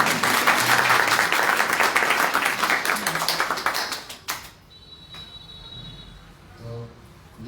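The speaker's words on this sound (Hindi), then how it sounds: "अब देखता हूँ कौन बजाता है ताली।" Audience clapping at a devotional gathering marking Sripad BV Siddhanti Maharaj's arrival, loud and dense for about four seconds before thinning to scattered claps and quiet room sound.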